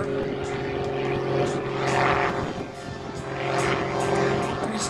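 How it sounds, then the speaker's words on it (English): An aerobatic airplane with a 380-horsepower Lycoming IO-540 engine hovers and turns at an airshow, its propeller engine droning loud and steady, swelling and easing slightly as it turns, with crowd noise faintly beneath. "Turning the airplane in the hover using that IO 540 380 horsepower Lycoming engine."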